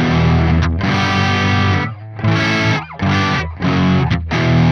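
An electric guitar through a Soldano SLO-100 amp plugin on its normal channel plays loud, slightly overdriven chords that ring and then cut off briefly between strums, with no voice.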